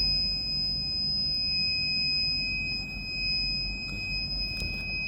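A home security alarm buzzer sounds a steady, high-pitched electronic tone continuously over a low background rumble, with no talking.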